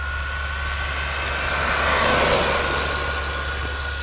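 An Arrma Granite RC car fitted with a Hobbywing SC8 ESC at full throttle, giving a steady high electric whine that swells briefly as it passes nearer, then eases slightly, with no talking.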